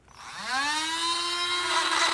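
A drill whines steadily while boring out infected areas of a hornbill's casque, spinning up quickly and then holding a high, sustained tone, close and alone.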